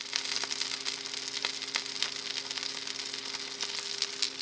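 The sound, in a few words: bagel and egg frying and sizzling in pans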